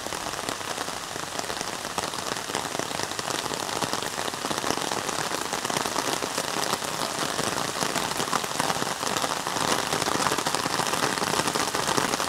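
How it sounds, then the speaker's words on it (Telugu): Heavy rain still pouring in Narsipatnam, a dense, even roar of drops hitting surfaces that stays loud and unbroken from start to finish with no voices. "నిజర్లీ 2 అవర్స్ అయినా సరే ఇంకా వర్షం తగ్గలేదు"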